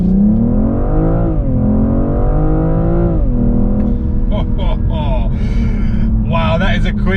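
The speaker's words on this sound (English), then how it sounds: "Wow, that is a quick 0 to 60." A 2021 BMW M440i accelerating hard from 0 to 60, its engine rising steadily in pitch through gear changes, loud and close from inside the cabin, with a voice talking over the latter part.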